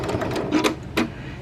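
A sewing machine back stitches a seam in a Simplicity 8612 garment: a short run of close, rapid mechanical whirring with a couple of louder bursts, with no talk.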